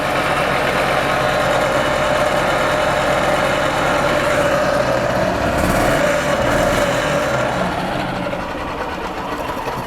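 A gas-powered 2001 Yamaha G16 golf cart engine after a carburetor cleaning, running steadily with a dense, continuous mechanical drone and rattle, loud and close throughout, with no voices.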